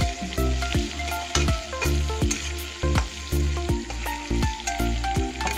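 Pork and turmeric frying in hot oil are stirred with steady, rhythmic scraping strokes over a loud, constant sizzle, close up and with no talk.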